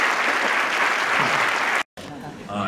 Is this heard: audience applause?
yes